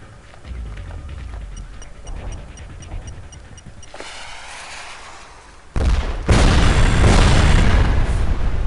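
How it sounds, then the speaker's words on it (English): Mortar blasts boom in the video game Sniper Ghost Warrior 2, a low rumbling backdrop that erupts into a loud, sustained explosive roar partway through. "For once, those mortar blasts come in handy."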